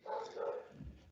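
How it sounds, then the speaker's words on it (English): A guard dog gives a short, moderately distant bark, a couple of quick yelps ending in a lower whine, alone and brief in a quiet outdoor setting. "that was our dog signaling to the other one, so they have their own code barking back and forth there."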